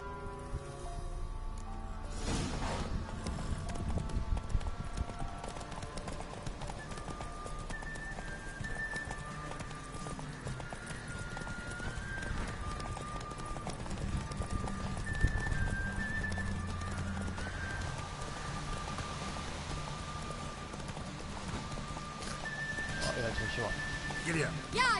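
A horse galloping with rhythmic hoofbeats and an occasional neigh in The Witcher 3, steady and moderately loud, with a person talking over it at times.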